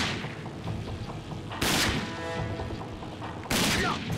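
Pistol gunfire in the shooter RAGE: two loud, sharp broadband bursts about two seconds apart, set over a dense, continuous bed of game combat noise.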